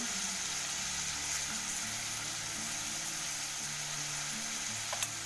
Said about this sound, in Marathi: आता हे व्यवस्थित तेल सुटेपर्यंत परतून घ्यायचं